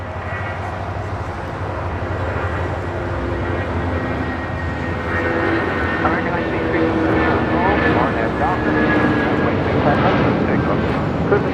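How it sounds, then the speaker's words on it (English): A United Boeing 757 bound for Newark takes off at LAX, its engines a loud, steady roar building over several seconds, with talk over it. "got that United 757 heading to Newark, taking off now"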